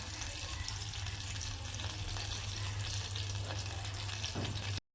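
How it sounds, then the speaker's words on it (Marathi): Onion frying in oil in a cooking pot, giving a steady soft sizzle and crackle throughout with faint stirring, no voices. "कांदा मस्त आता तेलामध्ये मारला गेला आहे"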